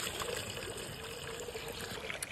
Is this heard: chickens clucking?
no